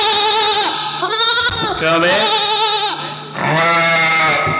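Goats bleat loudly and repeatedly near a police station, several wavering cries following one another closely, while someone speaks briefly between them.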